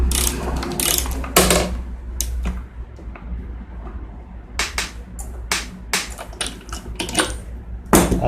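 A hand ratchet with a three-quarter-inch socket clicks in short bursts of rapid pawl ticks, separated by pauses, close and clear while snugging a spark plug on an Echo PB-2100 leaf blower.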